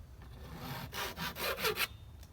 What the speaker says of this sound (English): Now this part of the spindle is too oval. Let me cut back a little bit and see where it gets round again.